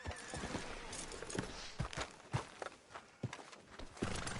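Horse hooves clip-clopping at a walk on a town street in the video game Red Dead Redemption 2, an uneven run of close hoof strikes with a brief neigh, no talk.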